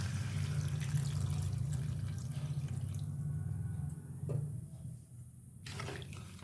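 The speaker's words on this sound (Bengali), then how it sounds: "এবার দিয়ে দেওয়া হবে পরিমাণ মতো জল।" Water is poured into a pan of potatoes fried with spices, producing a steady splashing and bubbling rush that fades toward the end, with a few soft drips after.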